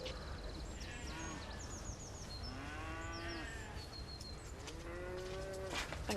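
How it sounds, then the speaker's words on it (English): Cows mooing several times, long low calls rising and falling, heard at a distance over a steady background hiss with faint bird calls. "Did you hear those cows mooing last night?"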